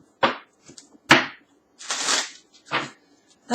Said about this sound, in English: let me just do a quick shuffle